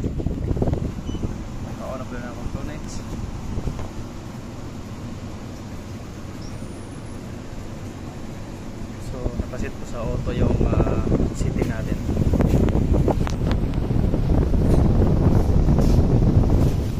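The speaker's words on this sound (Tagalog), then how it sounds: "gumagana na po yung fan motor natin ayan" An Everest air conditioner condenser fan motor, previously grounded, runs with a loud whooshing, windy drone that grows stronger partway through, with people talking over it.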